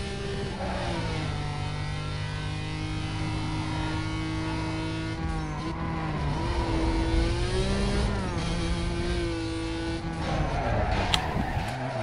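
A Renault Clio V6 races in Need for Speed Most Wanted (2005), its engine revving hard and steady throughout, pitch rising and dipping with gear changes, loud and close with faint game effects underneath.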